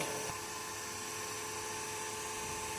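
A DC series motor in a lab experiment runs steadily at 1462 RPM, giving a constant high whine with a dense electrical hum, unbroken and fairly loud throughout.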